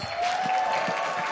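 An arena crowd at an MPL Season 10 esports match applauds, producing a brief, steady wash of clapping and crowd noise, moderately loud with a faint tone running through it.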